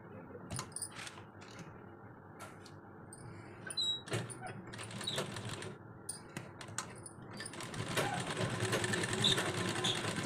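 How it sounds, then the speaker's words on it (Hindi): A sewing machine stitching a kurti, quiet mechanical clicking and ticking stitches that build into a steadier, denser run toward the end, with no speech. "अब मैं इसे मशीन पे ले जाऊँगी, यहाँ और यहाँ पे सिलाई लगा देंगे"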